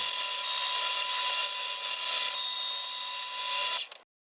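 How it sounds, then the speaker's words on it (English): A lathe parts off a disc from round bar with a continuous high, hissing metal-cutting whine, close and steady before cutting off abruptly near the end. "whilst I have the piece of round bar in the lathe, I'll part off another disc"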